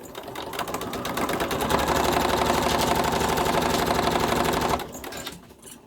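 A sewing machine runs steadily, stitching rows across fabric for a gown's stomacher with a continuous close mechanical whir and needle chatter, then slows and stops near the end.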